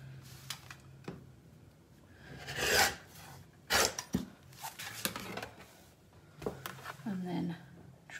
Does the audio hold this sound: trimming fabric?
yes